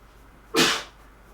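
One short, sharp sneeze close by, rising suddenly and fading within about half a second, in a quiet room during a makeup session.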